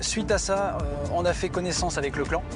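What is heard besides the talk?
No everyday noises stand out.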